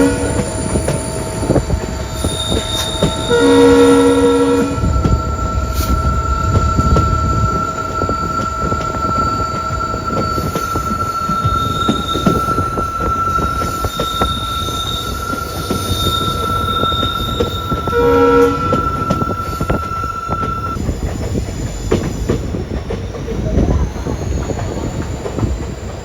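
Train running on the old Kollam–Aryankavu line past Punalur, heard from on board: steady loud rumble of wheels on track with repeated high wheel squeals and intermittent horn-like tones across the run.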